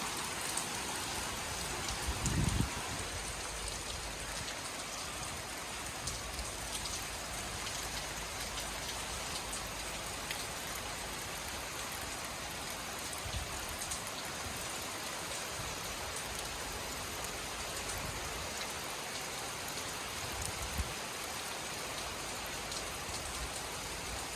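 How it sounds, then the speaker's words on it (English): Steady, dense hiss of heavy hurricane rain pouring continuously in Jamaica, close and enveloping, with a few faint low thumps and no voices. "Whole heap of rain."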